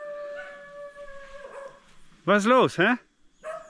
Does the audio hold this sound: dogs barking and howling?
yes